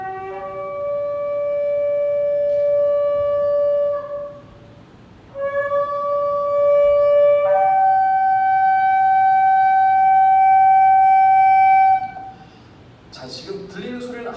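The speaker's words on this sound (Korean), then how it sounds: "어떤 소리도 들리지 않고 오직 양각 나팔 소리만 듣는 거예요" A shofar, the ram's horn trumpet, played from a recording in a church: long sustained horn blasts with shifting pitch, loud and clear, separated by short pauses, followed briefly by other sounds at the end.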